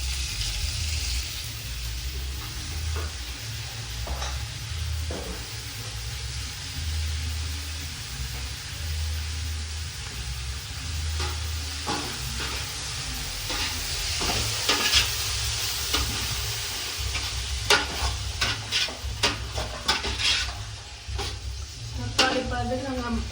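Onions and tomatoes fry in a pan as a steady, close sizzle with stirring scrapes and clinks, under a low, constant hum.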